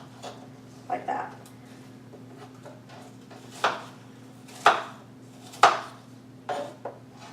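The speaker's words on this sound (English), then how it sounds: "while I am cutting up my apples" A knife slices through apples on a cutting board, giving a handful of sharp, separate chops and taps spread unevenly across the moment over a low steady hum in a home kitchen.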